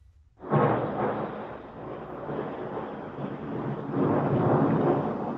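Thunder from a lightning storm breaks in suddenly as a loud, close rumble and rolls on steadily, with no talking.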